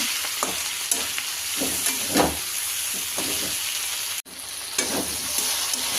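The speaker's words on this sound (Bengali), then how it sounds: "ম্যাগি মশলা দিয়ে ভালোভাবে নেড়ে নিয়েছি।" Mixed vegetables with Maggi masala being stirred in a frying pan, spatula scrapes recurring every second or so over a constant bright sizzle, close and clear, one brief dropout near the end.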